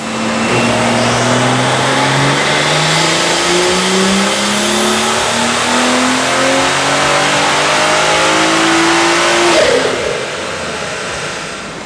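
A BMW B58-engined car running an E50 fuel blend accelerates hard in a loud, close, sustained pull, its engine note climbing steadily through the gears before easing off near the end.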